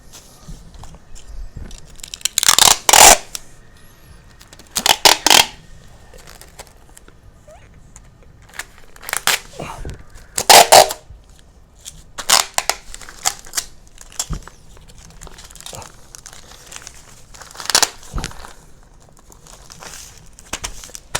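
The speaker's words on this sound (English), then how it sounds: "basically just folding up the sides just like that" Stiff material crinkles loudly as the sides and corners of a disposable shower tub are folded up by hand, in irregular bursts of crackling with quieter rustling between them, close and without talk.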